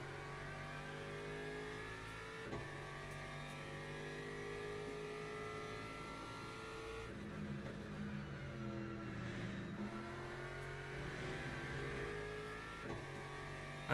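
An LMP3 race car in the sim racing game Le Mans Ultimate revs and accelerates through gears, with a steady engine whine, brief shift blips and shifting pitch as it drives on alone.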